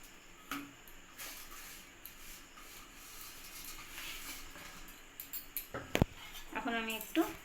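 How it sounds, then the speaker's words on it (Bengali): Fried vermicelli going into a pan of simmering milk with cardamom, soft rustles followed by clinks and scrapes of a spoon against the pan, growing busier toward the end, with quiet speech in the background. "এখন আমি ভেজে রাখা সেমাইগুলো এখানে দিয়ে দেব"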